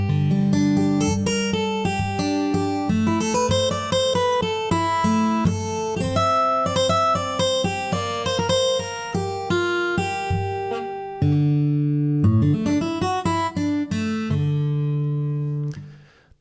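A free VST guitar plugin strums chords in a steady rhythm, bright plucked strings ringing through successive chord changes, clear and alone without any voice.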